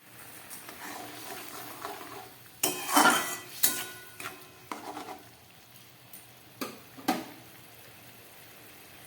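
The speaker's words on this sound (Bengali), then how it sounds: "এবার এই ভেজে রাখা পনিরগুলো আমি এর মধ্যে দিয়ে দিচ্ছি।" Fried paneer pieces are dropped into a pot of simmering coconut-milk curry for paneer malai curry, with a burst of clattering and soft sizzling followed by several scattered, sharp knocks of a utensil against the pot.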